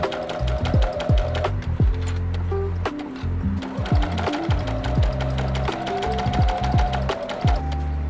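Sewing machine stitching down the folds of a fabric CD holder pocket for a car visor, a close rapid mechanical chatter of needle strokes running in steady loud bursts with brief pauses.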